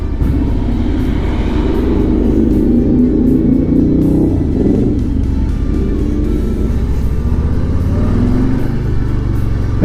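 A Harley-Davidson motorcycle engine rumbles loudly and steadily with deep low-end throb, the revs rising and falling around the middle before building again toward the end, with no talk over it.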